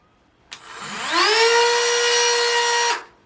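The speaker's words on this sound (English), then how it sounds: "Not sure how much battery power my Dremel has here on it. I'm going to try to work them a little bit." A battery-powered Dremel rotary tool grinds at old scars on a Ficus microcarpa bonsai, its motor whining up to a steady high pitch for about two seconds before cutting off, close and loud with no talking.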